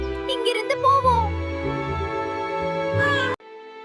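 A cartoon cat in a children's animation gives a few drawn-out, wavering meows, close and clear over background music, before the sound cuts off abruptly near the end.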